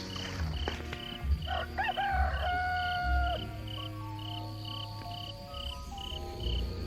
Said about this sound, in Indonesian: Kalian dengar suara kokok ayam jago itu?